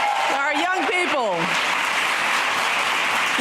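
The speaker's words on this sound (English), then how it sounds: "Give yourselves a round of applause." Applause from an audience at a human services gathering in Cambridge rises as a speaker's voice finishes, then settles into a steady, dense wash of clapping that fills the rest of the moment.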